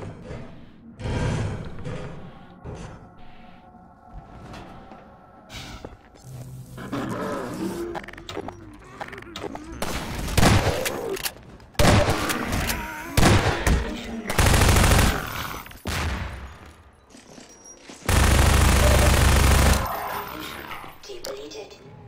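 Rifle fire in the video game Half-Life 2 Episode 1 comes in loud, dense bursts of rapid shots, mostly in the second half, with a voice talking and quieter game sounds between the volleys.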